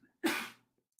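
A single short, explosive burst of breath, like a sneeze, rising abruptly and tailing off within half a second, followed by near silence.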